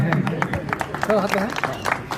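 Audience applause with rapid, steady clapping, as a voice talks over it.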